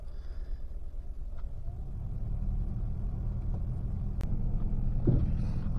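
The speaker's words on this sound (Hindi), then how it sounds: "तो दिखाता हूँ मैं बाहर निकल के एक बार गाड़ी, वार्म अप हो जाए।" A car engine warming up outside on a very cold, foggy winter morning, a steady low rumbling idle that fills the whole clip, fairly loud and close, with a faint click near the end and no talking.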